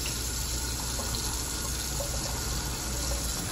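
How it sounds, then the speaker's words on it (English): Plant seeds are rinsed under running tap water, a steady close rushing stream that fills the whole few seconds without a break. "Want to wash off any bacteria or something that might be on there."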